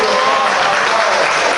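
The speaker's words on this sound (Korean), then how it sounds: "우리 하나님께 영광의 박수를." Church congregation applauding at a summer revival Sunday morning service, dense continuous clapping that stays loud and even throughout the short stretch.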